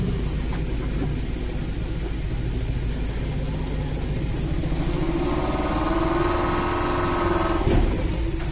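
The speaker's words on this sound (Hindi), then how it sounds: "गाड़ी स्टार्ट हुई है।" A vehicle engine starts and keeps running, a steady mid-pitched drone that grows slightly rougher and louder toward the end, close by with no talk over it.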